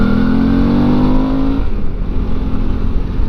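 A Suzuki V-Strom motorcycle runs loud and close on the road, a steady engine drone with a rising tone that levels off, wind noise mixed in.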